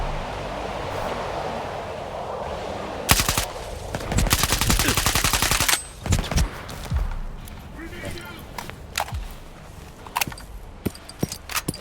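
Automatic gunfire in the Stalker 2 video game: a long rapid burst of rifle shots followed by scattered single shots and short bursts, loud and close, with someone talking over parts of it.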